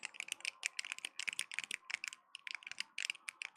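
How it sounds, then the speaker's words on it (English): Rapid, crisp plastic clicks from a homemade clicker, snapping in quick irregular bursts like fast typing, fairly faint and close, with no talk. "Sounds like you're clicking the clicker thing you made."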